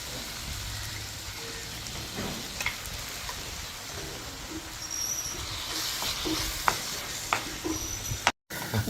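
Onions and other ingredients frying in a pan, a constant hiss of sizzling with occasional light clicks and scrapes from stirring, and a brief dropout near the end.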